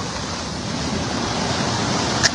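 A continuous, broadband rushing of heavy floodwater across farm fields, steady and fairly loud throughout with no voices, like a strong current surging nearby.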